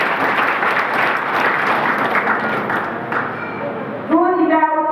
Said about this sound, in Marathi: जोरदार आपणच आपल्यासाठी टाळ्या वाजवा